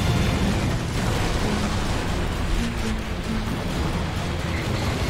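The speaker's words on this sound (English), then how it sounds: "Can't even see the screen through all the explosions." Explosions from the vehicular combat video game Twisted Metal, a dense continuous roar of blasts and bursts filling the whole stretch at steady loud level, with no pauses between them.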